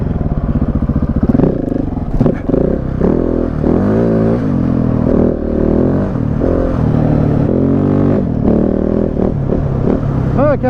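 A Husqvarna 701 Enduro dual-sport motorcycle ridden on an old enduro track, its single-cylinder engine loud and close, rising and falling as the throttle is worked throughout, with a brief voice partly under the engine.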